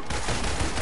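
Rapid burst of gunfire from the PS4 video game Marvel's Avengers, a dense crackling volley filling the short moment at steady loudness.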